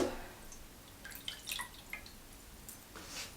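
Water going into a pot for pasta makes faint, scattered splashes and drips in a quiet kitchen, starting after a brief thump.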